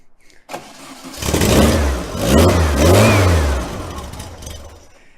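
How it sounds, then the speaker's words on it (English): A 1955 Volkswagen Beetle engine cranking briefly then firing up, rising into a close, loud, uneven rev that surges and dips a few times before settling toward idle. "crank the car up and see what happens"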